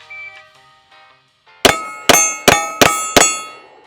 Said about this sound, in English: I'm gonna fire 5 rounds at that plate on the right.